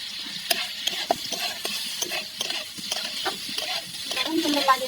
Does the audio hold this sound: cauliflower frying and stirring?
yes